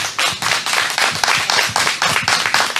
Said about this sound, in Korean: 도법 스님을 박수로 환영해 주세요.